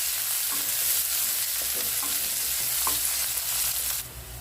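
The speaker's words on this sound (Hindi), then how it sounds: "अब इसमें हम 2 बारीक कटा हुआ मीडियम साइज का प्याज डालकर और प्याज को हम भून लेते हैं" Two finely chopped medium onions frying and being stirred in a pan with cumin and bay leaves in mustard oil, a steady close sizzle with occasional scraping stirs, quieting abruptly near the end.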